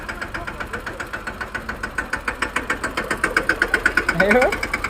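A new Sonalika tractor's diesel engine runs close by at a steady idle, thumping in an even, rapid knock that rises slightly near the end, with voices talking over it.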